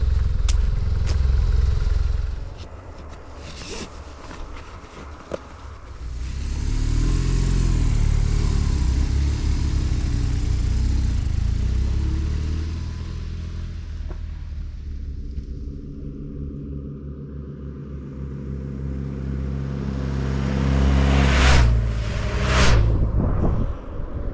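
A motorcycle on a road trip out of Yosemite toward Arizona and Las Vegas, its engine rumbling steadily at close range and swelling and easing with throttle changes, mixed with wind and road noise.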